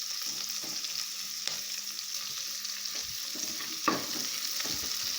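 Chopped onions sautéing in hot oil in a pan for brinji rice, with a steady close sizzle broken by occasional stirring scrapes and clinks, and no talking.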